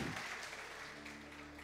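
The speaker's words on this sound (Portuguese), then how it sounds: "A gente dá uma salva de palmas para eles." Church congregation clapping during a worship service, a dense round of applause that stays steady throughout at moderate loudness, with faint voices underneath.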